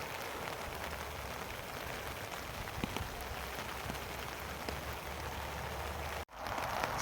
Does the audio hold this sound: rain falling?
yes